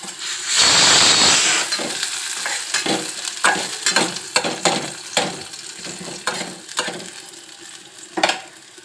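Dried chilli, cumin and onion sizzle loudly in hot oil as a dal tempering, a burst of frying at the start followed by repeated scraping stirs and clinks of a spoon against the pan, with no voices.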